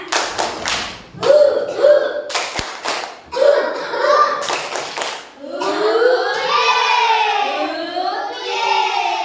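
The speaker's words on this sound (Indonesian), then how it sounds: "sekarang anak-anak, halo, tepuk semangat" Children in a primary-school classroom perform a rhythmic group clap, sharp bursts of hand claps in quick patterned sets with short pauses between them, then break into loud chanting and cheering voices together.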